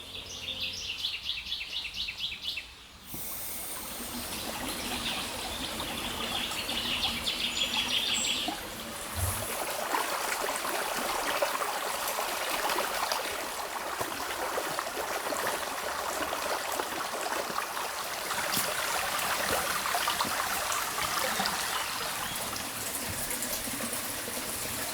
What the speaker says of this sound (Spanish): el relajante y continuo murmullo del agua